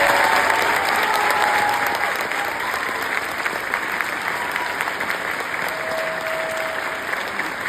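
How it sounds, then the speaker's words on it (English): A Broadway theatre audience at the farewell performance of SMASH claps loudly for the show's co-producers and investors. The full, dense applause carries on evenly throughout, with no voices above it. "Please give them a round of applause."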